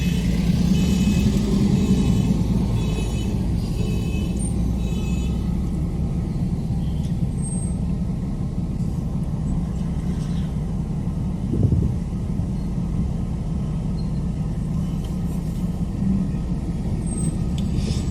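Steady street traffic in Philipsburg, St Maarten, with cars, trucks and buses rumbling continuously along Front Street, a brief louder pass midway and faint hiss above the low drone.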